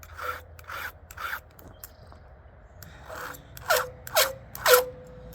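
Round file rasping along a chainsaw chain during sharpening, in six short strokes: three softer ones early, then after a pause three louder, brighter strokes, each a brief scraping burst with a faint ringing edge.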